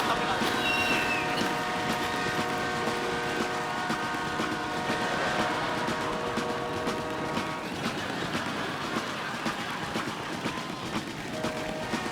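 A passing train, recreated on a stage show from a film scene, rumbles continuously with sustained horn-like tones and rattling, loud and steady throughout.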